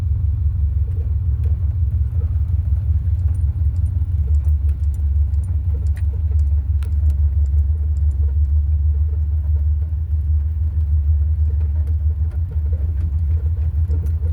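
Inside a carburetor-swapped Chevy OBS pickup with a 4L80E automatic cruising around town, a deep, steady engine and road rumble drones throughout, with faint rattles and key jingles on top and no talk.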